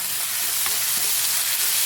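Chopped ginger and garlic with a pinch of asafoetida sauté in a pan for a baby potato roast, making a continuous dense sizzle without any voices.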